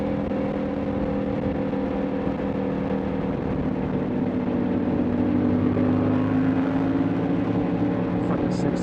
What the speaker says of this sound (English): Another Aprilia showing up next to me here.